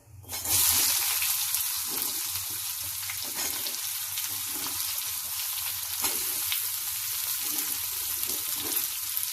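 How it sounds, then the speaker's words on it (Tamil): Onions sizzling in hot oil in a pan while mint chutney is made: a strong, steady frying hiss with light crackles that holds for about nine seconds without talk. "வெங்காயம் போடுறேன்"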